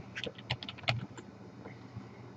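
Typing on a computer keyboard while writing a MySQL SELECT query, a quick run of light keystroke clicks followed by quiet, fairly faint and close, with no talking.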